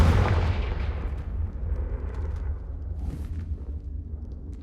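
A fiery spell blast in the Hogwarts Legacy game: a heavy, booming explosion at the start that rumbles and decays over several seconds, with faint crackles trailing off.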